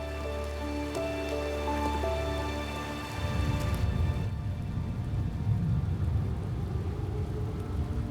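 Heavy rain pours steadily in a grizzly bear stakeout camp, a dense hiss of drops striking surfaces that comes in after a few seconds of musical tones and continues unbroken to the end.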